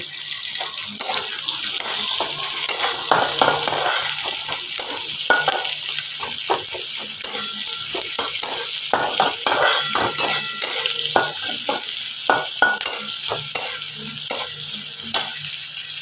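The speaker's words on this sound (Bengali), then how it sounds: "পেঁয়াজটাকে ভালোভাবে নাড়াচাড়া করে নিতে হবে" Onions stirred and frying in a pan while preparing spinach with prawns, with steady sizzling and repeated scraping clicks from the stirring, loud and close throughout with no talking.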